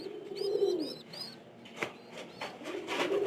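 Pigeons in a loft coo in repeated rolling phrases, near and fairly soft, broken by short chirps and a few sharp knocks.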